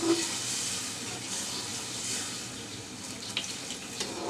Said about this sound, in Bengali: অল্প পরিমাণে পানি দিয়ে দিচ্ছি প্রচুর মুখিটা যেন সিদ্ধ হয়ে যায়